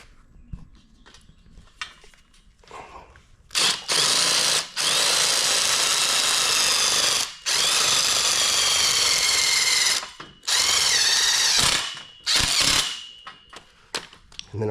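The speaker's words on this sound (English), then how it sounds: "I'm gonna use a power drill, the 5/16" A power drill with a 5/16 bit drives nuts on a chain link gate kit in several bursts of a few seconds each, loud and close, with short pauses and faint clicks between runs.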